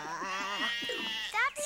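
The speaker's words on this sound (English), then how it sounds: "That's not a bull. That's just Herkimer, one of the sheep." A sheep bleats in a wavering, voiced cry, close and fairly loud, with a short higher bleat near the end.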